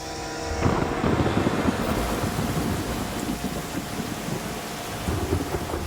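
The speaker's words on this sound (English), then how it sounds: "the rain starts tipping down, the water starts coming up" Heavy monsoon rain pours down over a Malaysian river, a dense close roar of drops, while a deep rumble of thunder rolls through the first seconds and wind buffets the microphone.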